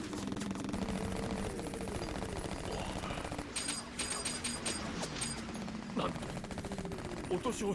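Automatic gunfire from mecha combat in the RahXephon anime, with sustained rapid bursts and metallic clatter running continuously behind the voices of people talking over it.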